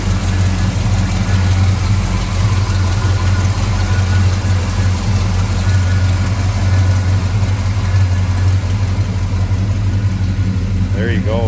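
A 1955 Chevrolet 210 two-door post, done as a Bel Air, with an Edelbrock carb and intake and HEI ignition, idles smoothly and steadily close by, a constant low rumble with a faint whine near the end.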